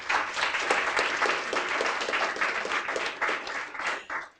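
A crowd claps and applauds steadily for a few seconds, the clapping fading slightly near the end.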